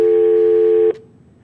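A telephone busy tone on a call-in line to a talk show, one steady loud tone that cuts off abruptly, then faint line hiss.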